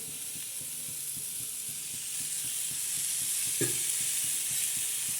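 Chopped onion frying in oil while a chili-onion thecha is made, with a steady broad sizzle, regular soft scraping strokes of a spatula, and one sharper clink partway through.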